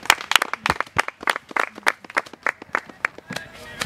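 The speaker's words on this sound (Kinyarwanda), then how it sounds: "Reka mbasabe dusubire tumukomera amashyi cyane." An audience at a gathering for schoolgirls claps in a brisk, irregular run of sharp individual claps. The claps are fairly close and crisp and fade slightly toward the end.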